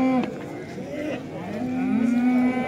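Cattle at an open livestock market lowing loudly and close, with one long drawn-out moo and shorter calls, backed by faint market chatter.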